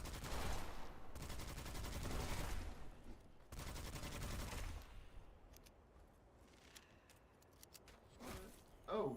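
Enemy shooting in the dark fantasy shooter Witchfire, long loud bursts of rapid fire in the first half, then quieter scattered shots and footsteps.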